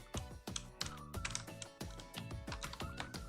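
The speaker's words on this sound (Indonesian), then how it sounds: "Langsung saja kita ketik" Rapid typing on a computer keyboard while entering Python code, with a close stream of sharp key clicks and heavier thumps in an irregular rhythm and no talking.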